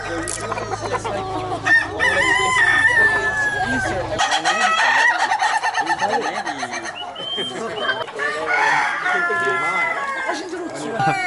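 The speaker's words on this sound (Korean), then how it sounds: "여기 닭들이 신기하게 색깔이 알록달록해요 노란 닭도 있고 저기는 핑크" Roosters crow and hens cluck at a village in Bali, where yellow and pink dyed chickens are kept. Several calls overlap, loud and close, alongside background chatter.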